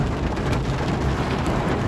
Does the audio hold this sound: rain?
yes